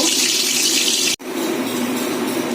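Eggs fry in a pan with a loud, steady sizzle, broken by one split-second gap, with no voices.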